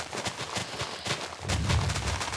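TNT explosions in the video game Minecraft, a dense rapid barrage of blasts, loud and continuous with a heavier low rumble building in the second half.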